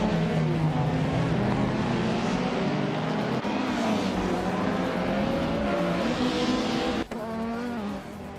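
Race car engines in a video game race hold a loud, steady whine with pitch wobbles from gear changes, plus a brief tire squeal and a sudden drop near the end.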